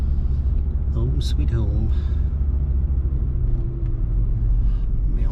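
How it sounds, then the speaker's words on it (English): A vehicle driving up and backing in front of a wash house, a steady low engine rumble close by throughout, with a person talking briefly over it. "Drive straight up and back it in front of the wash house."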